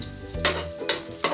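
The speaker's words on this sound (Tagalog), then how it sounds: "Haluin ng haluin para maiwasan ang masunog." Beef stirred in a pan, a few quick spatula scrapes over a constant sizzle, close and clear with no voices.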